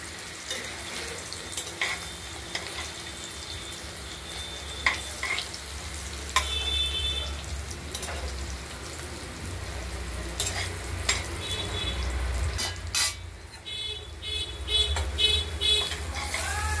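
Paneer frying in a pan sizzles steadily while a utensil stirs and scrapes with scattered clinks and knocks, and running water is heard briefly toward the end; no one speaks.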